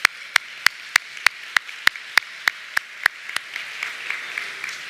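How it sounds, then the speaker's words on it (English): Sparse handclaps from a small crowd at a public meeting on a downtown Albany strategy: about a dozen sharp, separate claps at a slow, uneven pace, then thinning into faint scattered patter. "a round of applause for yourselves"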